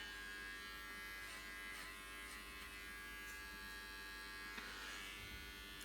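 Small cordless clippers trim a dog's fur with a steady, quiet electric buzz. The hum stays continuous and close, with faint shifts as the blades move through the coat.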